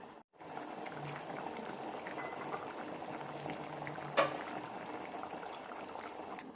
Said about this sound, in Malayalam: കറി നന്നായി തിളച്ചിട്ടുണ്ട്